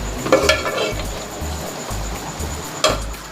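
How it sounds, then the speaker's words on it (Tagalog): Masala paste for a chicken curry frying in a pan, a steady close sizzle with a few sharper stirring scrapes and spoon clinks against the pan. "So we'll just fry a little bit to remove the raw smell of masala."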